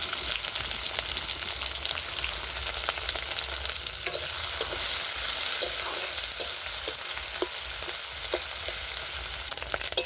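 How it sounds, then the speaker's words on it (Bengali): Sliced onion and prawns fry in oil with five-spice seeds and chili, giving a steady, close crackling sizzle with occasional light taps of stirring and no voices. "পেঁয়াজ আর চিংড়ি মাছ আমার ভাজা হয়ে গেছে"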